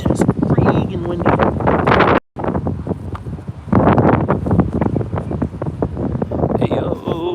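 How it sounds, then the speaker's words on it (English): Strong gusts of roughly 25 mph wind on a disc golf course batter the microphone in loud, uneven bursts with a brief cutout, and a person is heard talking faintly underneath. "it's freaking windy"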